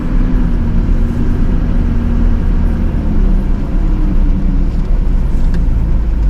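A 16,000-pound snow plow truck's engine idles steadily up close, a continuous low rumble with a faint tonal hum and no talk.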